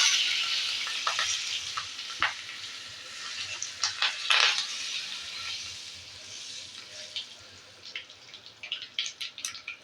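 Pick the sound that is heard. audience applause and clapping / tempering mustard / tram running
tempering mustard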